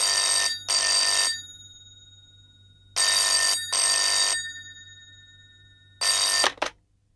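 A telephone rings in a home in a Tamil TV serial, sounding three double bursts of bright electronic ringing spaced about three seconds apart, loud and alone, with the last ring cut off short.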